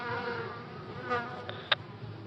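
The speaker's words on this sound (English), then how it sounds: "The killer bees. They're coming in. And they're flying in formation?" Swarming killer bees, large like hornets, produce a steady insect buzz that drones continuously at low level, with a few brief sharper flyby tones passing close.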